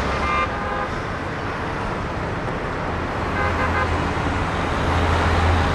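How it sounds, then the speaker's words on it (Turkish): A car horn sounds in traffic in short honks, one near the start and another partway through, over a constant loud roar of road noise and engines. "Sabaha kadar bassan ne olur kornaya."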